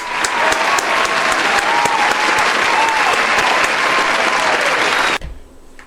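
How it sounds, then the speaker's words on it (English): Loud, sustained applause from a crowd with some whoops, cutting off sharply near the end to a quiet room. "let's clap it up for Justin"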